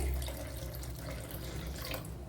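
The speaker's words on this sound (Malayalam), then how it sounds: "കുറച്ച് വെള്ളം കൂടി ഒന്ന് ഒഴിച്ച് ലൂസാക്കി എടുക്കാം" Water running and splashing steadily into a bowl of curd being thinned for buttermilk, a continuous close pour lasting the whole moment with no voices.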